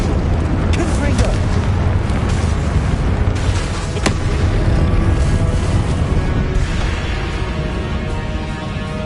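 A Confringo explosive spell blasts in Hogwarts Legacy, a dense, loud rumbling boom that rolls on with crackling bursts through a sustained roar of battle noise.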